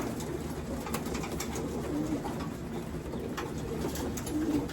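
Soft, low cooing from several racing pigeons, repeating steadily over a dense background of other bird calls and rustling.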